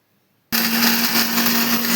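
An electric mixer grinder whirring at full speed while grinding lentil powder for a festival offering, starting abruptly after brief silence and then holding a loud, steady, high-pitched roar.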